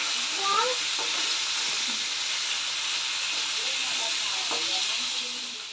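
Oil hissing and spattering in a pan during home cooking, a steady close sizzle that carries throughout, with faint voices or small sounds from the room now and then and the noise easing off at the end.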